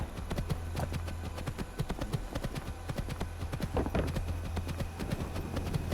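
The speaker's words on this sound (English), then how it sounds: "Just Skyrim horse our way up through here." Steady clip-clop of horse hooves from the video game Skyrim, a continuous rhythmic trot of sharp close hoof strikes over a low droning ambient backdrop, with no talk.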